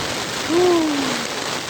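Heavy rain and gusting wind in Pampanga make a steady, close hiss that swells a little in the middle, with a brief tonal hoot-like sound above the downpour.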